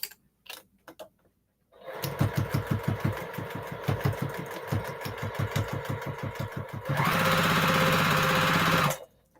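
A home sewing machine starts with a few clicks, runs in a rapid, pulsing chatter, then speeds up into a fast, continuous whirring burst before stopping abruptly.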